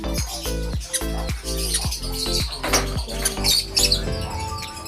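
A crowd of birds at a bird farm squawks and chirps loudly and up close, quick repeated calls stacking over one another with brief higher chirps layered on top.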